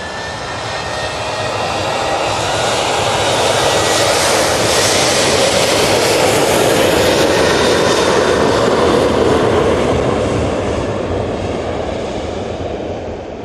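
A Ryanair jet departing Manchester Airport roars steadily for the whole stretch, swelling to a broad, loud peak midway and easing slightly toward the end, with no talk over it.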